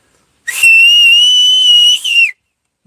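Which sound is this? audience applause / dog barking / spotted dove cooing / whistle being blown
whistle being blown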